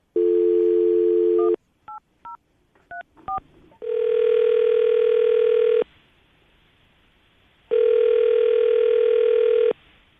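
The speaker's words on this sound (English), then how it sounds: "we're going to call him now, see if we can get him on the phone" A phone line plays a dial tone, then a quick series of keypad beeps, followed by two long ringback tones separated by a silent pause.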